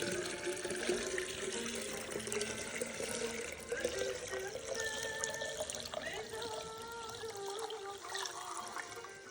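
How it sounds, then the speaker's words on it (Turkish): Old homemade grape vinegar being strained into a container, a continuous close trickle and splash of liquid running steadily throughout, with faint background noise and no talk. "Süzüyoruz eski sirkemizi."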